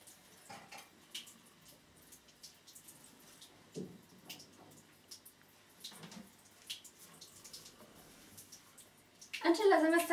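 Tap water runs steadily with soft splashing and drips, then a louder burst of sound at the end.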